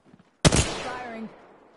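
A single sharp, loud Apex Legends gunshot cracks close up after a brief bit of quiet, its report ringing and decaying over about a second.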